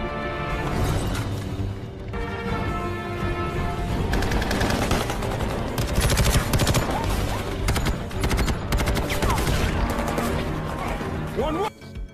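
Dense gunfire from The Expendables action film, with rapid automatic bursts and heavy shots crowding together in a loud, continuous battle scene set in a jungle, backed by a music score and effects.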